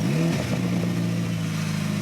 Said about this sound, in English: The engine comes to life. It's a bit of a cold start.